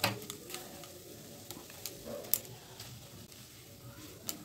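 Food cooking in a pan over a low-to-medium gas flame, giving quiet, faint sizzling with scattered light ticks and taps of stirring throughout.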